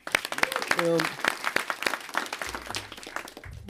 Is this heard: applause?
yes